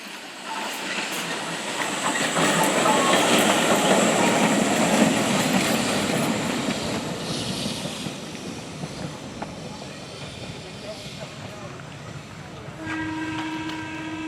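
Milwaukee Road 261 steam locomotive runs on its 2016 Duluth excursion, a loud rolling rumble of the train passing close, with a long steam whistle sounding near the end.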